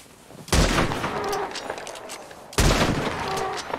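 Two loud, close gunshots from Red Dead Redemption 2, about two seconds apart, each a sharp blast followed by a long rolling echo and tail.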